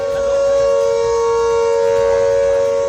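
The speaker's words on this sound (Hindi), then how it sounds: "पाकिस्तान से सटी भारत की सीमा के कई इलाकों में कल रात गूंजे सायरन, रहा ब्लैकआउट" Air-raid sirens sounding at night during a blackout along India's border with Pakistan, a loud steady wailing tone holding for the whole stretch.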